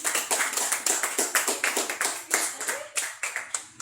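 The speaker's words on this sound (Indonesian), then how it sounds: "Oke, betul, tepuk tangan." A classroom of students claps together after a correct math answer, a quick, close burst of sharp hand claps that fades in ragged pulses over a few seconds.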